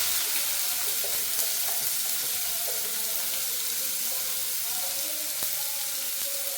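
Chopped onions sautéing in a pan give a steady, close sizzle and fry hiss, with faint stirring scrapes and small clicks scattered through. No one talks.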